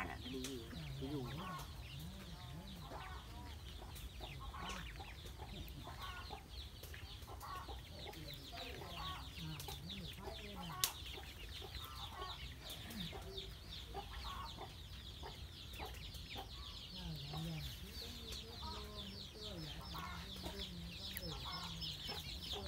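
Chickens and chicks on a farm, busy clucking and soft peeping all around at close range in a steady stream, with a person talking quietly underneath.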